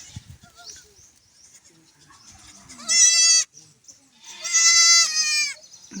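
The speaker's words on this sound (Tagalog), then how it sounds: "Maganda rin ang kambing alagaan talaga" Goats at a farm, a mother with many kids, give two loud, close, drawn-out bleats, the second longer and wavering. Quieter rustling and faint small sounds fill the gaps between them.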